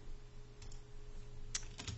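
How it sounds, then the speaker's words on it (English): A few soft, close keystrokes on a computer keyboard come in a short, sparse burst over a faint steady hum in a quiet room. "I'm just going to type the word tutvid"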